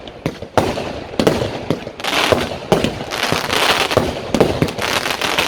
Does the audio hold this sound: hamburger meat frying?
no